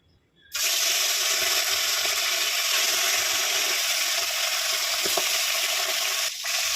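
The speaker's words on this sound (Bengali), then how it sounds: "তেলটা ভালো গরম হয়ে গেছে, এবার আমি মাছগুলো ভেজে নেব।" Fish dropped into well-heated oil in a kadai, starting with a sudden loud sizzle that holds as a strong, continuous frying hiss close by, with small crackles and a brief dip near the end.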